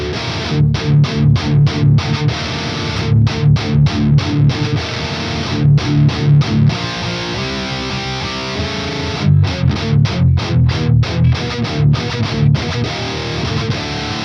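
Heavy distorted metal electric guitar chugs through an amp in rhythmic palm-muted bursts with sustained gaps, loud and thick in the low end with deep resonance, with no voice.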